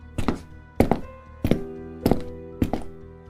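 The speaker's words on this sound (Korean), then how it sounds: "구두가 바닥을 세게 찍으며 걸어오는 소리" Hard-soled dress shoes stomp heavily on a floor, five loud, close footfalls in an even, unhurried rhythm, each with a dull, resonant thud and nothing else heard.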